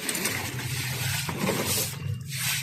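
A suction hose draws water out of a canal during street mud cleanup in Barangay Sampaga, Apalit, Pampanga: a loud, continuous rushing roar over a steady low motor hum, with no voices.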